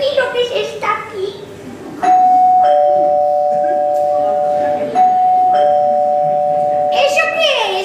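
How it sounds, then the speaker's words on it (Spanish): A doorbell rings indoors with a clear sustained two-tone chime that sounds twice, loud and close, after people talk and then again with a voice nearby. "El timbre."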